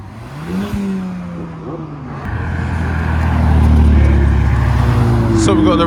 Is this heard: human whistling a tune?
no